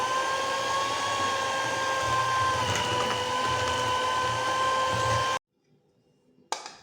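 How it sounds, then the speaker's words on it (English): An electric mixer beats cake batter with orange juice and butter, giving a steady loud whine and motor hum for about five seconds before it cuts off abruptly, followed by a brief clatter. "You add the orange juice because you see the butter is dry, and then you mix it"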